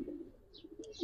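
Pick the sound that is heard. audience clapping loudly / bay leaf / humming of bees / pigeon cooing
pigeon cooing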